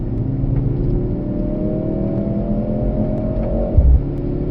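Mercedes-AMG C63S E-Performance W206 accelerating hard at full throttle on a race track, a steady loud engine drone rising in pitch through the gear, with a brief thump near the end.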